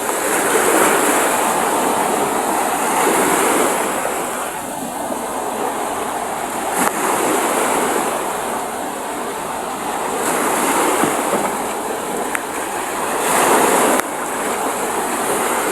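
Heavy surf roars continuously, with big ocean waves surging and crashing in repeated swells close by, broad and loud, no voices, too rough for a fishing boat to go out.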